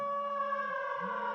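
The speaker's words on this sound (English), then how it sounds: "that's a siren" A steady, tonal siren wails at moderate distance, holding a sustained pitch with a slight dip and rise near the end.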